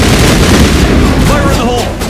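Gunfire in the Mass Effect video game during a squad firefight, loud, dense and continuous, with shouted game dialogue and combat effects mixed in.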